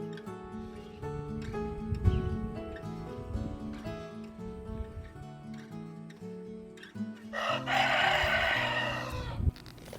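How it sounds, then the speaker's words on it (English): A rooster crows loudly in a long, drawn-out call near the end, following a stretch of quieter tonal sounds. "Cock-a-doodle-doo!"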